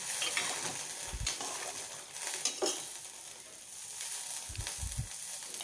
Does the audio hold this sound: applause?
no